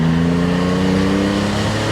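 A 1983 Porsche 911 SC, a tribute to the 1974 911 IROC, cruises in traffic, its engine droning steadily and loudly from inside the cabin.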